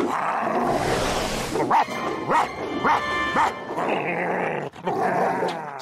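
A cartoon dog barks in a quick run of four sharp yips, loud and close, over busy cartoon music and effects with no talking.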